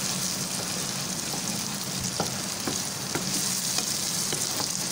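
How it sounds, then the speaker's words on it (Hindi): Brain masala roasts in ghee in a pan, producing a steady, dense sizzle with light crackling pops and occasional stirring scrapes, close and fairly loud, without any speech. "मैं घी ऐड करूँगी इसमें और अच्छी तरीके से हम इसको भून लेंगे"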